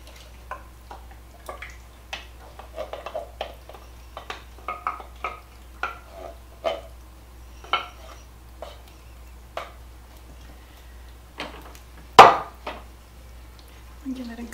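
Sloppy joe soup with kidney beans and Manwich sauce is stirred in a crockpot, producing a string of soft, irregular spoon clinks and scrapes against the pot, with a louder knock near the end.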